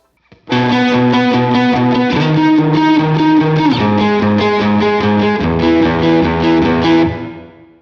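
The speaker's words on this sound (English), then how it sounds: "what it actually sounds like without the effects and just the guitar" An electric guitar plays a sustained riff of ringing octave notes, clean and loud, with chords changing every second or so before fading out.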